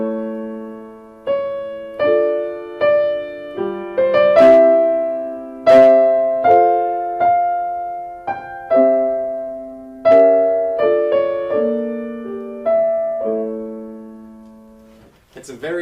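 Piano plays the simple Corelli theme melody over plain chords, each struck chord decaying before the next in a slow, steady phrase, close and clean, with no one speaking over it.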